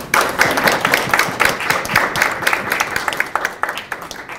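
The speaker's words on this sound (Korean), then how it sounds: "다시 한번 뜨거운 박수를 부탁드립니다" Loud, dense applause from an audience at a Korean political party event welcoming new members, steady clapping throughout that fades slightly near the end.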